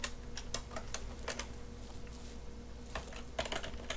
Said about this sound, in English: I'm just going to type in a print command.